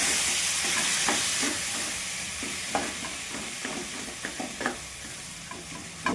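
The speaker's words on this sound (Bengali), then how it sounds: "এখন আমি মটর আলু সেদ্ধটা দিয়ে দিব, দিয়ে কিছুক্ষণ নাড়াচাড়া করে নেব।" Boiled peas and potatoes for ghugni are stirred into hot oil in a pan, a continuous close sizzle and hiss with repeated soft scrapes and taps of the spoon, no talking.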